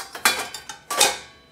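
A tea pot with unscrubbed stains clinks against dishes and the racks while being loaded into a dishwasher, giving two or three short, close, sharp clatters of ceramic and metal.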